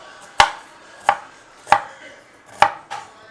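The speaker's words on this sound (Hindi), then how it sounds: "अब हम प्याज को काटेंगे।" A knife chops an onion on a cutting board in a home kitchen while homemade momo is being prepared, four crisp close strokes at an unhurried, slightly uneven pace with no talking.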